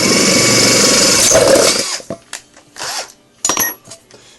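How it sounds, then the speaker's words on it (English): Big power drill boring into a portable gasification burner: a loud, close whine for under two seconds, then stopping, followed by a few short metallic clinks and scrapes. "Big drill."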